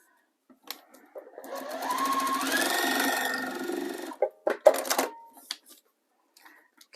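Sewing machine stitching a seam in cotton fabric while foundation paper piecing: a steady, close mechanical whir for about three seconds, then a few short clicks and taps as it stops.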